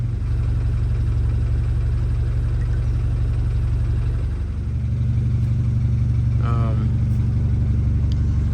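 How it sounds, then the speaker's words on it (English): A BMW F30 328i with dual exhaust and quad tips idles with a loud, steady low rumble close by, then the engine note shifts slightly deeper partway through; no talking. "I was able to put dual exhaust quad tips, and I think it sounds pretty good"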